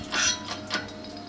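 A gear is pressed off the main shaft of a Toyota R150F gearbox, heard as two short mechanical clicks and creaks close by, with no speech.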